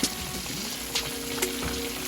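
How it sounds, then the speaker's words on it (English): Fish frying in a pan of hot oil, a dense continuous sizzle with a few sharper pops and crackles, close and fairly loud. "I was frying a lot of fish once again"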